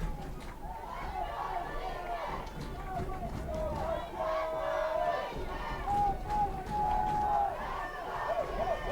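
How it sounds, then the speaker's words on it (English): Rowdy crowd at a 4th/5th grade youth football championship game on South Campus cheers and chatters steadily throughout, a broad wash of voices with occasional shouts rising above the noise. "everybody's cheering, about half of them for the offense, half of them for the defense, but it's a rowdy South Campus."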